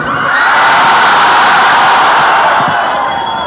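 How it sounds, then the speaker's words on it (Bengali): A large crowd at a talk shouts together as loudly as it can, a near, sustained roar of many voices that swells quickly and holds for several seconds before easing slightly. "এবার তোমরা কত জোরে চিল্লাইতে পারো"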